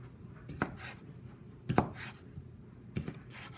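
A knife slicing kielbasa sausage into 2-inch lengths on a cutting board, three distinct sharp chops spaced about a second apart, close and fairly quiet, with no talking.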